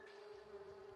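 Bees in The Sims 3 give a faint, steady buzzing drone that lasts about a second.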